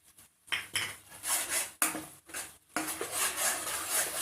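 Onions and garlic with curry leaves sautéing in oil in a pan, a close, steady sizzle broken by clattering spoon-and-pan stirring strokes.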